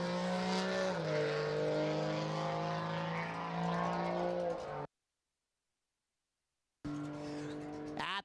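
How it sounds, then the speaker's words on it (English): Cummins turbo diesel drag car spooling up at a drag strip, a loud droning engine tone that rises, cuts out for a couple of seconds, then returns with a rising whine at the end. "Cummins, turbo diesel, spooling it up."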